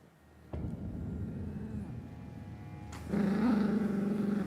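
Puppies growl low and steadily over a background rumble. The growling gets louder and more continuous near the end.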